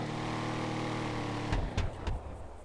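Slamvan truck engine in GTA Online drones with a loud, steady rumble, then cuts off into a few sharp clunks and thumps near the end.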